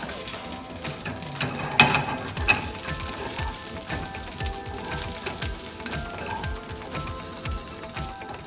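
Eggs, mushrooms and onions sizzle steadily in a hot pan while being stirred, a continuous crackling fry with soft scraping movements and a couple of sharper clicks, no voices.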